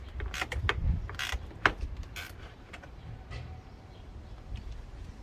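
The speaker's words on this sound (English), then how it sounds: "Okay, we've got our first snap bolt." A 10mm bolt snaps while being undone on a barn-find Kawasaki GPZ900R superbike during a rebuild; a single sharp crack rises out of close, quiet creaks, clicks and tool rattles, with no voices.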